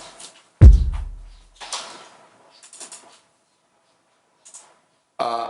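Three layered kick drum samples in FL Studio: one deep, booming hit stands out, with fainter, scattered percussive sounds and a bright burst at the end, all without voices.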